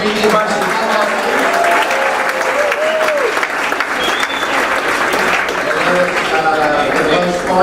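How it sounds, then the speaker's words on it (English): Sustained applause from a banquet audience honoring a JV varsity volleyball team, dense steady clapping filling the room with voices and cheers mixed in throughout. "How about another round of applause for our JV varsity volleyball team?"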